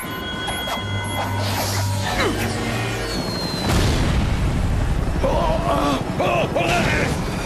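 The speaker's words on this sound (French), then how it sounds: "la bombe!" A cartoon bomb explosion in an animated ninja dancer scene: a loud boom and crash bursts out midway and its rumble fills the rest of the clip, over earlier tones, music and voices.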